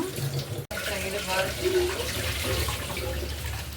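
Water pours from a tap into a pan for brinjal and drumstick kara kuzhambu, a steady close splashing flow with a brief cut early on, while a voice talks faintly underneath.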